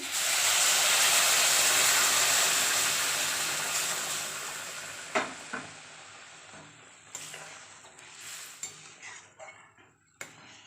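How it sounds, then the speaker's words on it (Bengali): Hot water poured into a pan of frying fish curry made with green tomato, starting as a loud steady hiss and sizzle that fades over several seconds, followed by scattered clinks of a spoon on the pan. "কষানো হয়ে গেছে আমি গরম জল দিয়ে দিচ্ছি"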